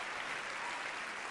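An audience at a comedy stage show applauds, a steady, dense wash of clapping from many hands throughout.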